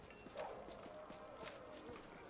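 Faint hooves clip-clop in a steady, even rhythm, a horse walking at a distance in the video game Pathfinder: Wrath of the Righteous, with a soft background hum.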